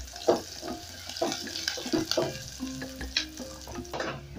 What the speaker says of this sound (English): I'll go in with my onion. I'm going to sauté this for about a minute.